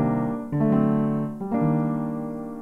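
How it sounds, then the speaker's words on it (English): Ableton's upright piano, built with Spitfire, plays a short phrase of sustained notes and chords, with three clear strikes ringing close and clean and no voices over them. "this is just Ableton's upright piano that they made with Spitfire"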